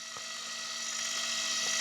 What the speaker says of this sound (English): this is an outdrive motor, so it is going to be a little bit noisier